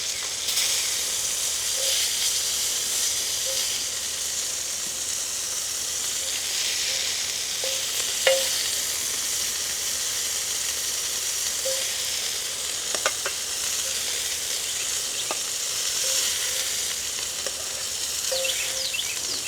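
Food fries in a pot over an open flame with a steady, close hiss and crackle, broken by occasional sharp pops and light clinks of stirring, with no talk.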